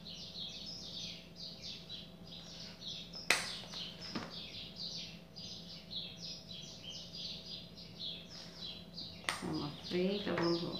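Small birds chirp busily in an acerola tree, rapid high twittering calls from several birds continuing throughout, with a couple of sharp knocks and a voice breaking in near the end.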